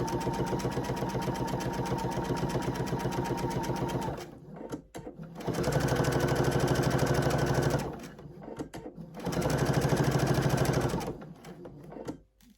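A sewing machine stitches a pillowcase in three long runs of fast, rhythmic mechanical clatter, loud and close, separated by short pauses with faint handling sounds.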